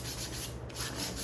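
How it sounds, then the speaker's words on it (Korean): Sandpaper rubs over the surface of a wooden kit piece in steady, close back-and-forth strokes, a dry scratchy hiss with a brief pause midway. "그럴 때는 다시 이 사포를 이용해서 마감을 해보도록 할게요."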